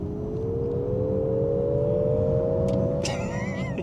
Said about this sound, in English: put it into sport mode and I'm gonna plant it